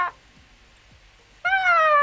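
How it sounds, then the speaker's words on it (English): A cartoonish cat meows once in a Minecraft-style survival games match, a loud, clear, slightly falling cry near the end after a brief blip and a quiet stretch. "The noise cat makes when he falls off tree"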